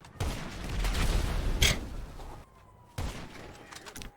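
A heavy, sustained barrage of booming blasts and crackling fire from an orbital cannon strike in GTA Online, cutting out abruptly, followed by a quieter lull and another impact.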